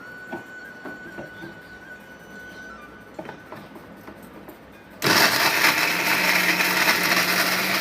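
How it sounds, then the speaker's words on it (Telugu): After a few seconds of quiet kitchen noise with faint knocks, a mixer grinder suddenly starts and roars loudly, blending chopped pieces for a sweet. "ఇలా చిన్న చిన్న ముక్కలుగా తయారు చేసేసుకొని మిక్సీ వేసేసుకున్నాము"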